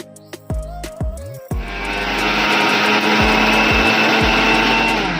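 Electric kitchen mixer grinding sugar for kharvas, starting with a few short bursts and then running as a loud, continuous whirring roar with small dips.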